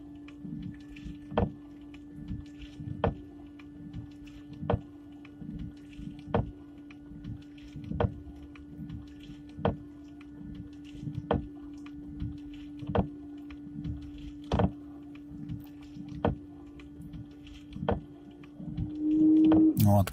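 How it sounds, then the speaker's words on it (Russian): A small electric car windshield washer pump motor hums steadily for about twenty seconds, with regular ticking clicks, before its pitch rises sharply at the end as the reservoir empties and it runs dry. "Все, моторчик уже на сухую работает."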